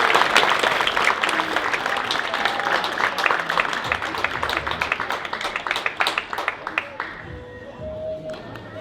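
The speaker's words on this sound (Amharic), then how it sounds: "ለእናንተም ሞቅ ያለ ጭብጨባ ያስፈልጋል።" An audience at an Adwa celebration breaks into sustained clapping, a dense crowd applause that stays loud before gradually thinning out, with some voices mixed in.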